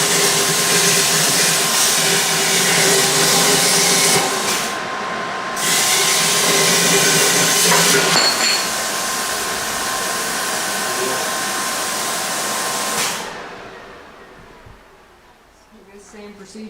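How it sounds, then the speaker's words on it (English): Angle grinder running steadily during an axle repair, a loud continuous whine with a couple of brief dips before winding down near the end; no talking over it. "gotta get the grinder"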